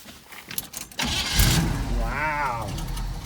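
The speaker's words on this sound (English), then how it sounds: "Look at that, it idles." A Squarebody Chevy truck engine cranks in short bursts, catches with a sudden roar, then settles into a steady, slightly lumpy idle, close and fairly loud, with no talking.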